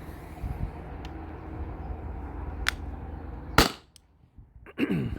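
An Umarex CO2 air gun fires Burnett kinetic rounds from a Salt Supply cartridge: a few sharp, snappy pops, one standing out loud and close, over a low background hum with faint rustling between shots.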